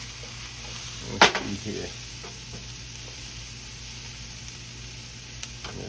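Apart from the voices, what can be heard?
onions frying in a skillet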